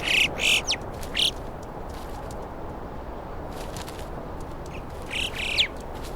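Alpine choughs give shrill, squeaky calls in short clustered bursts, some close and loud, against a steady wash of background noise in high Swiss mountain terrain.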